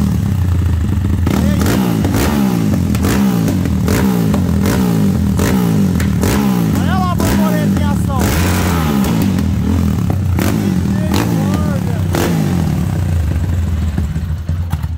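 An ML 320cc motorcycle fitted with a Twister carburetor revs hard and loud up close, its engine rising and falling in repeated throttle blips with mechanical clatter throughout the whole stretch.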